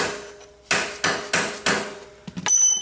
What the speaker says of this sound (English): I'm going to tap this fully onto that shaft